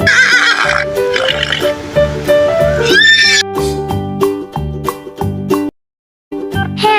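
A horse neighs loudly up close in a series of shrill, quavering whinnies, one after another, with brief gaps and a short silence near the end.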